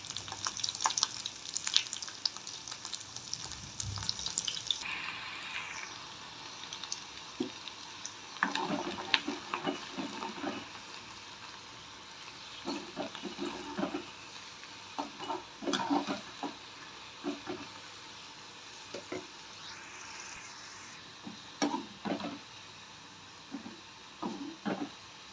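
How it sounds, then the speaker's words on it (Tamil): Garlic frying in a pan for a poondu kulambu, a faint sizzle interrupted by bursts of stirring and scraping that come in uneven clusters. "இந்த அளவு பூண்டு வதங்கினா போதும்."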